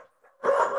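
A dog gives a single short bark that follows a couple of faint, softer vocal sounds, brief and moderately loud in a quiet room.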